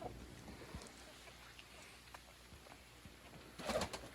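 Soft dove-like cooing rises near the end over a steady outdoor farmyard hum, with faint scattered sounds and light wind before it.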